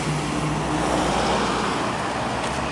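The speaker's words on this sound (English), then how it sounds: "Chicken buses. That's what we call them" Buses and other traffic roar past on a highway in El Tunco, El Salvador, the locally named chicken buses among them; a steady, loud rush of engines and tyre noise continues throughout with no pauses.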